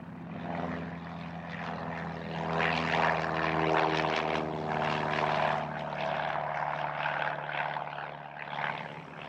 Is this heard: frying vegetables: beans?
no